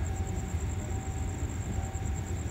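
Thai suburban train at Ban Pong station on the Thonburi–Ratchaburi line, a steady close rumble with a thin high whine throughout, continuous and fairly loud.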